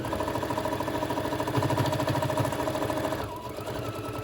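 A sewing machine stitches a thick, multi-layered tote bag strap with a rapid, steady mechanical chatter that runs continuously, then eases off briefly toward the end.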